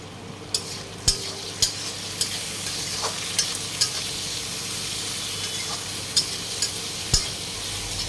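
Ginger-garlic paste frying in a pan, a steady sizzle broken by sharp, irregular scrapes and clinks of a spatula stirring, close and moderately loud with no talking.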